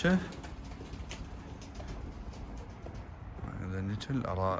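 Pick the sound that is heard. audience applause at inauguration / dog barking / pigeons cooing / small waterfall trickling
pigeons cooing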